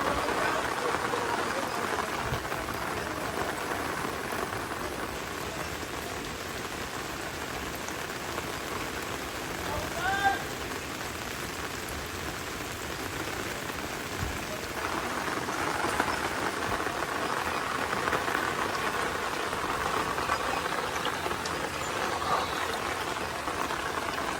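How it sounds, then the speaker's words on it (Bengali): Rain falls steadily on surfaces in a flooded area of Feni, Bangladesh, a continuous even patter with scattered drops, heard without talk. "বৃষ্টিটা না হইলে মোটামুটি এত পানি হইতো না"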